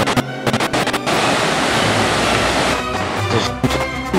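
A small waterfall on a rocky mountain trail roars with a steady, loud broadband rush of falling water, close by and continuous with no talking.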